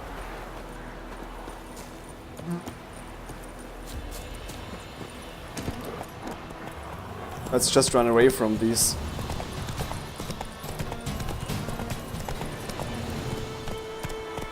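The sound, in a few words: horse Roach's hoofbeats in video game The Witcher 3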